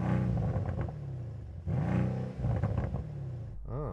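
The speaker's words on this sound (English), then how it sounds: "Let's have a listen to the C63 coupe." A Mercedes-AMG C63 S coupe V8 engine revs repeatedly against a soft limiter, rising and dropping in roaring bursts over a burbling idle, loud and near, ending with a quick rising blip.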